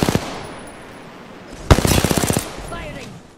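Automatic gunfire in a competitive shooter video game: a few sharp shots at the start, then a loud, rapid burst of evenly spaced rounds, close and punchy.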